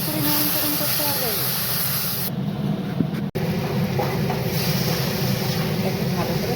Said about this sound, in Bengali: এখন এটা একটু ভাজা ভাজা করছি